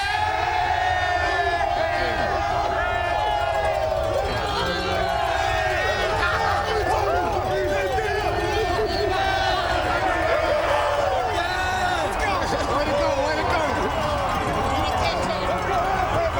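A dense, roaring stadium crowd fills the air at the CFL West Final trophy presentation for the Saskatchewan Roughriders in Calgary, with continuous cheering and chatter throughout and voices talking over the din.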